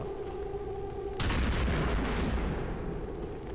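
A rocket blast in the XCOM 2 strategy game hits abruptly after a steady low hum, then a loud, broad rumbling roar sustains and slowly decays for over two seconds, with no talk over it.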